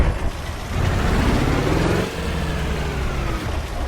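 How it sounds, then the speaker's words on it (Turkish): The engine of a heavily loaded Ford truck in Euro Truck Simulator 2 drones loud and close, a low, steady rumble that dips briefly midway and then carries on, with no talk over it. "Abi ama bu nasıl bir motor sesi ya?"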